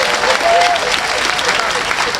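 Loud, dense audience applause at a political gathering in Benin, continuous clapping from a crowd filling the whole stretch, with a faint voice or whistle-like tone briefly rising above it.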